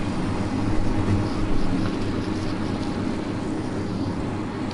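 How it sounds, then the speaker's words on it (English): Helicopter in a PS4 game, a steady low rotor and engine drone with broad rumbling noise that holds at an even loudness throughout. "while we're in this helicopter"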